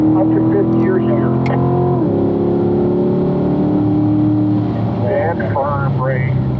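A car accelerates on a race track and shifts up into fifth gear, its loud, steady engine drone dropping in pitch at the shift, while a driving instructor talks over it throughout.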